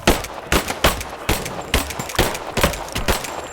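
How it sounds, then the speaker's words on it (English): Rapid bursts of gunfire from enemies in Rise of the Tomb Raider, a loud run of sharp, closely spaced shots repeating steadily throughout with no talk over them. "Open fire!"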